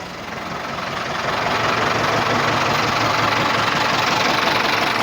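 A Ford 6610 tractor's diesel engine runs steadily, a loud, continuous rumbling drone that swells slightly in the first second and then holds even, with no talk over it.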